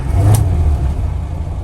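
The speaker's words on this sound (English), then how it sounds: "quick video of start up and idling on this Morris Traveller" A 1968 Morris Traveller engine starts and settles into a steady, close, low rumbling idle, loud and alone with no talking.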